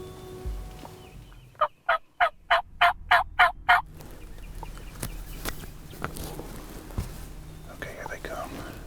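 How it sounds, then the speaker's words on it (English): A wild turkey gobbler lets out a rapid run of about eight loud gobbling pulses at mid distance, followed by quiet outdoor ambience with soft whispered talk. "No, that's a gobbler."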